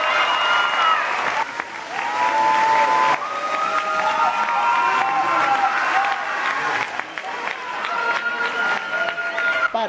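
Audience at a show at the Feria Nacional fairgrounds in Aguascalientes gives steady, loud applause and cheering throughout, a dense crowd wash with voices mixed in.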